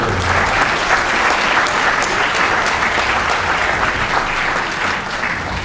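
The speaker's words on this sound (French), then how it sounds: "On peut aussi applaudir le collège." A cabaret audience at an evening Wallon revue hosted at the Collège Notre-Dame applauds, a loud, sustained sheet of clapping from a full hall that holds steady throughout and eases slightly at the close.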